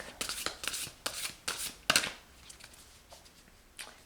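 A deck of cards is shuffled in several quick, crisp riffling bursts, close and fairly quiet, with short pauses between.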